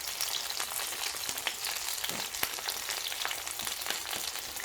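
Tilapia frying in a pan gives a steady, dense crackling sizzle with scattered sharper pops, close and continuous throughout, with no talk.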